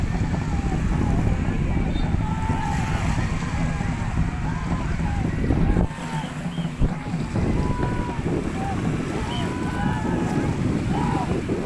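Racing boat engines hum out on Manila Bay amid strong wind buffeting the microphone, with people talking and calling out over the noise.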